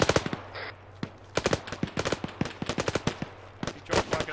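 Enemy gunfire in Arma 3 during a British milsim firefight: sharp rifle and machine-gun shots crack in irregular rapid bursts, some close and loud, others more distant, over a steady low hum.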